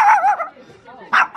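A dog at an outdoor site gives close, loud yelping barks and whiny vocal sounds, with a sharp bark at the end.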